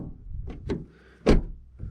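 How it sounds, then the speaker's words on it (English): The door of a new Suzuki Vitara 1.4 Boosterjet Allgrip opens with a few light latch clicks and a hollow thunk, close by and alone. "when you open the door, you notice it how light actually it feels."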